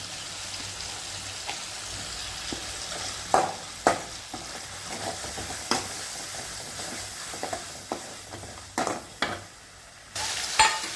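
Ginger garlic paste sizzles steadily in hot oil with whole spices for mutton kothu kari, while a spoon stirs and scrapes the pan in occasional sharp clicks and knocks.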